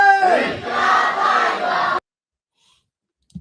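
Protest crowd in a Kashmir demonstration chanting slogans in unison, a loud, dense roar of many voices for about two seconds that cuts off abruptly into silence.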